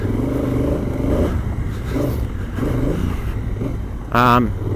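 A Honda Africa Twin with the DCT automatic gearbox is ridden along, its engine droning under rushing wind noise. It ends with a brief rising whine.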